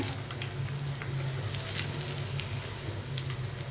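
Chicken lollipops fry in a kadhai over a stove, a soft, steady sizzle with fine crackling pops throughout, heard alone at moderate distance.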